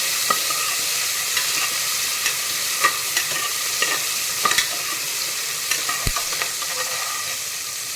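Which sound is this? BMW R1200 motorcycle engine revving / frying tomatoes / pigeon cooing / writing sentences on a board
frying tomatoes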